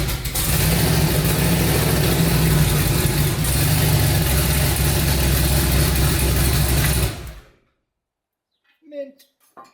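A twin-turbo 5.3 V8 in a New Edge Mustang runs loud and close, its rough idle and revving lasting about seven seconds before it cuts off abruptly into silence and a brief faint voice.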